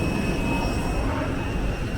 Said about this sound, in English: Just seen a plane landing there as well.